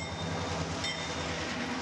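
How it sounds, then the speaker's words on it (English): A train arriving at Divisadero Station in Copper Canyon, Mexico, a continuous loud rumble of rolling railcars with faint wheel clatter and a thin high squeal. "The train finally arrives at my stop"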